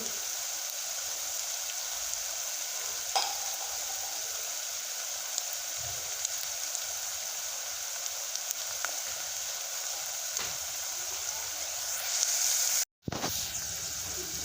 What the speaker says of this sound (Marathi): मस्त आपला कांदा भाजला गेलेला आहे